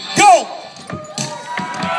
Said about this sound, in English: Cheer them all, they can hear you all the way up and all the way down.